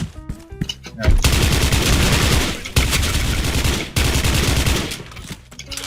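An M4A1 SOPMOD rifle fires in Special Force 2, loosing three long, loud bursts of rapid automatic fire against a wall, separated by brief pauses after some single shots.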